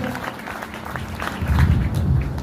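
Audience applause at a motivational seminar: a dense crowd wash that swells louder partway through and stays steady to the end.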